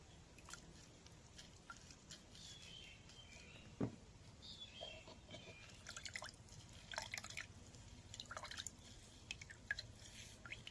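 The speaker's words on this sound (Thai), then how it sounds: "บีบน้ำมะกรูดลงใส่น้ำครับ" Kaffir lime juice squeezed by hand into water for a homemade termite remedy makes faint, close drips and small splashes at irregular intervals against a quiet outdoor background.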